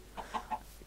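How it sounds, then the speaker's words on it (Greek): Short clucks from a Minecraft chicken in a video game, three quick soft bursts in a row, fairly faint over a low background hum. "Και το κοτόπουλο είναι μέσα."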